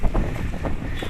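Steady wind buffeting the microphone in low gusts on a long bridge, with a rushing outdoor roar and no voices.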